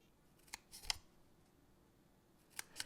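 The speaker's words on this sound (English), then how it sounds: "we're going to cut up these vertical score lines, but stopping at that horizontal score line" Scissors snipping score lines in cardstock, a few faint, sharp, separate cuts spaced across a quiet moment.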